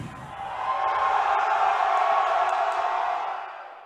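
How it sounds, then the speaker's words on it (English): Basketball crowd at a women's college game getting loud during a free throw: a steady, swelling roar of many voices that builds, holds and then eases off, with no clear single voice. "Crowd's getting a little loud here."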